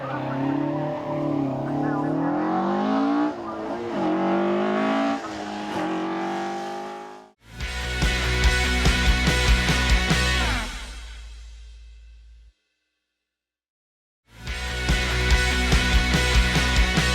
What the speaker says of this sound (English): Behind me is a car that you will, of course, recognise, Colin McRae's Subaru World Rally car